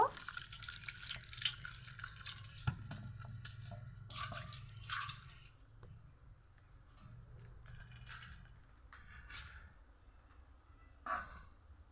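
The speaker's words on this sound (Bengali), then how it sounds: "এখন আমি জল দিয়ে ভালো করে তালটাকে ধুয়ে নিব" Water running and splashing as a hollowed palm fruit is rinsed clean, a steady close wash with brief bursts of splashing and dripping throughout.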